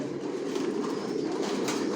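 Racer pigeons cooing at a loft, a soft continuous low murmur of several birds close by, steady and unbroken throughout, with no talking.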